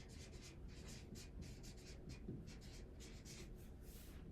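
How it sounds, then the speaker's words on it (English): Chalk or marker strokes scratch across a board in a steady run of short, evenly spaced bursts, close and fairly loud, with no voice over them. "So let's write this down."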